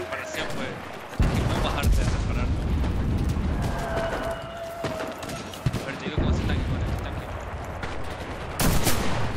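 Gunfire in the World War II shooter game Enlisted, bursts of rifle and machine-gun shots cracking in irregular clusters with explosions mixed in, loud and close, with someone talking over parts of it.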